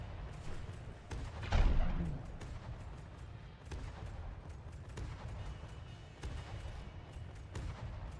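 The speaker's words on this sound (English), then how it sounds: "the fact that we still have a 200mm cannon firing is fucking insane with this much damage" A 200mm cannon firing in From the Depths, a single heavy boom standing out from steady rumbling battle noise and scattered lighter impacts, with a voice talking throughout.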